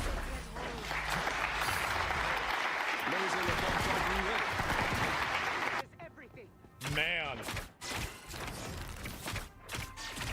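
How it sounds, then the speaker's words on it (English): An audience applauds in a sustained burst for several seconds, then it cuts off and people talk over sparse background noise. "they're clapping before he's even done"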